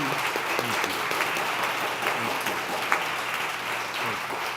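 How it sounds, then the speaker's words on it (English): Sustained audience applause at a talk-show taping on patient-driven health, steady dense clapping at moderate loudness with no talking over it. "I have to imagine those are applause for all the other lives that have been saved as a result of your research"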